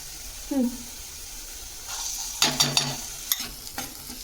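Ginger-garlic paste hits browned onions in a hot pan for a curd chicken curry, setting off a burst of close, crackling sizzle with a few stirring scrapes after a quiet start.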